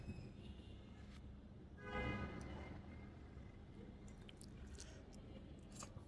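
Someone eats khichuri with beef and vorta, soft wet chewing and squishing close to the mouth, with a brief louder bite midway and faint clicks of utensils throughout.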